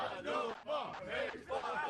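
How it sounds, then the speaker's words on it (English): A crowd at a Klask match cheers and shouts in loud excited bursts, voices rising and falling in three swelling waves over a couple of seconds. "What a crowd, though. Great crowd. Cheering and everything."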